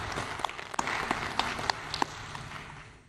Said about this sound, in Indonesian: Mari kita aplaus.